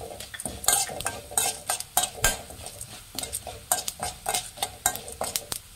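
Urad dal and cumin frying in a pan for Mangalore cucumber sambar: busy metal-on-metal scraping and clinks from a spoon stirring in quick irregular bursts over a light sizzle, close by, with no speech.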